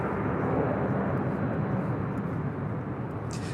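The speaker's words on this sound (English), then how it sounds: "Flying overhead, that was China Southern Cargo Flight 441 coming in from Shanghai," A China Southern Cargo plane flies overhead on its approach to LAX, arriving from Shanghai. Its engines give a steady, loud, broadband roar that fills the whole clip, with no talking.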